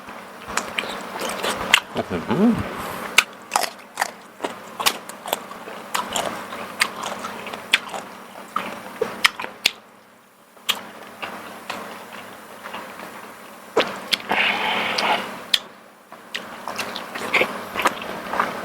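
Crunchy grilled beef tendon being chewed close up, a run of sharp irregular crunches and clicks with short pauses and a brief quieter stretch midway, without talk.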